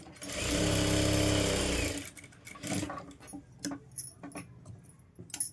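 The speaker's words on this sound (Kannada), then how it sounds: "ಇವಾಗ ಇದ್ರ ಮೇಲೆ ಇನ್ನೊಂದು ಸ್ಟಿಚ್ ಹಾಕಬೇಕು" Sewing machine stitching a blouse in one loud, steady run of about a second and a half, then stopping, followed by scattered clicks and rustles of handling.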